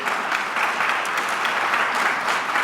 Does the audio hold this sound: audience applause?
yes